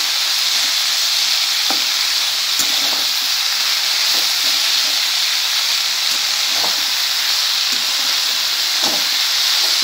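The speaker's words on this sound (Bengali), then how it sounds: "দেখুন এটা প্রায় ভাজা হয়ে এসছে" Bottle gourd peel and flat beans fry in a pan with a loud, constant sizzle and hiss, broken by faint clicks and taps of stirring.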